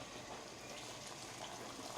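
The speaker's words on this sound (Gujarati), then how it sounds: "તો એમાં થોડુંક પાણી નાખી દઉં" Water pours into a pressure cooker holding cooked potatoes, a faint, steady rushing gush with no pauses, heard alone without talk.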